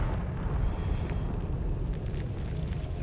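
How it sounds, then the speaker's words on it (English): A bomb goes off in the cave game Noita, a dense low rumbling blast that rolls on for several seconds with crackling debris, loud and close with no talk. "Let's go ahead and put a bomb so I have quicker access"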